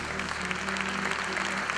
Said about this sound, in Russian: ваши аплодисменты ее серьезно мотивируют